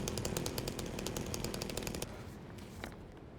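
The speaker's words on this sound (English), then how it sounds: "we'll use the chainsaw for a bit" A chainsaw in Silent Hill 2 Remake buzzes with a rapid, rough rattling rhythm, fairly faint, revving continuously then easing off near the end.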